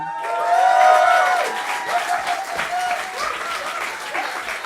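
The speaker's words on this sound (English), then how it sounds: "Round of applause to the Great British Radio Show" An audience applauds the Great British Radio Show team at a live radio play event, the clapping swelling loudly early on and then settling into a steady, sustained wash with faint voices mixed in.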